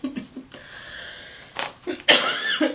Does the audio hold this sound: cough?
yes